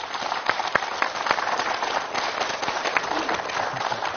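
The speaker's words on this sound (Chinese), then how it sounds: "来，让我们掌声欢迎下一位嘉宾童志磊" A studio audience applauds to welcome a guest onto a talk show stage, a sustained crowd of clapping with several sharper individual claps standing out, moderately loud.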